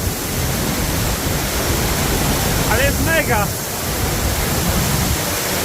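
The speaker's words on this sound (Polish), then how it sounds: "Że można wejść na taki wielki wodospad." A large waterfall roars in a dense, steady wash of close white noise, with a brief higher-pitched voice cutting through the middle as someone speaks over it.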